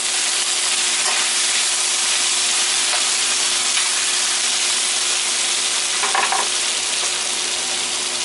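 Fat renders down in a pan for steak and chicken fajitas, a constant dense sizzle and frying hiss with a few faint stirring scrapes, steady and close throughout.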